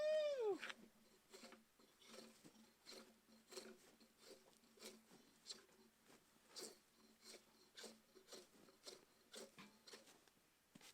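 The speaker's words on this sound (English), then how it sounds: "I'm just gonna do a little bit of finish peeling on here" A drawknife shaves bark from a log outdoors in a series of short raspy scraping strokes, fairly quiet and irregular, with a brief squeaky tone at the start.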